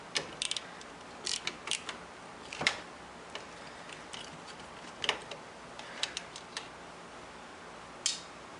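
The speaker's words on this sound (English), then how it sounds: "the ratcheting function of the screwdriver has become more of a hindrance than a" A ratcheting screwdriver clicks as it unscrews screws from electronics, giving quiet, close, irregular bursts of sharp ticks with short pauses between them and no talk.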